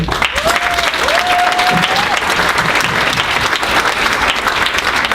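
Guests at a wedding reception applaud the MCs in a loud, steady round of clapping from a crowd, with a brief whistle or cheer rising early on.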